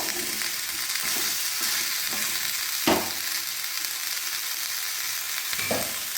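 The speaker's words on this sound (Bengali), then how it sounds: "আলু আর কুমড়ো কেটে ধুয়ে রাখা ছিল, এগুলো এবার একটু ভাজা ভাজা করে নেব।" Cut potato and pumpkin pieces frying in a pan, giving a steady close hiss of hot oil broken by a few clanks and scrapes of stirring.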